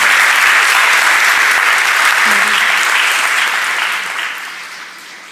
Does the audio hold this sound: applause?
yes